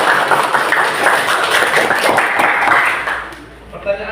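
Applause for a student council (OSIS) candidate at a school election event: dense, sustained clapping from a crowd of students, loud and steady before tapering off near the end.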